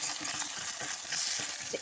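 Steady crackling sizzle of small fish frying in hot oil, close up, with occasional stirring scrapes in the pan.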